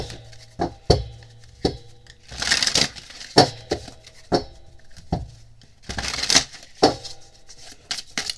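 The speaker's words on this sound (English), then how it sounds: "Let's give these another shuffle" Cards being shuffled and riffled up close, with sharp taps and papery flutters in uneven bursts, no voices.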